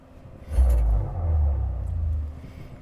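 A deep, swelling electric rumble from a 2024 Chevy Silverado EV RST pickup in Wow mode rises twice like a powerful vehicle surging forward, loud and close with no talking.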